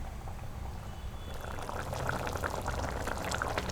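Egg curry (muttai kulambu) with five eggs bubbles in a pot over medium flame, a steady simmering burble that grows louder and busier partway through, with no talking.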